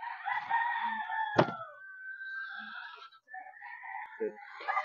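A rooster crows close by, one long strained cock-a-doodle-doo peaking near the middle, with softer clucks and calls from other fowl around it and a voice talking faintly in the background.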